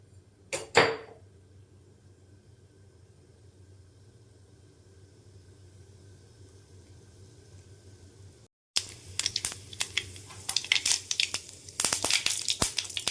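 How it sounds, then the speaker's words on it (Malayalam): Mustard seeds dropped into hot oil for an inchi (ginger) curry start spluttering suddenly after a quiet stretch, then keep up a dense, loud stream of sharp crackling pops. "എണ്ണ ചൂടായി, ഇനി നമുക്ക് കടുക് ചേർക്കാം."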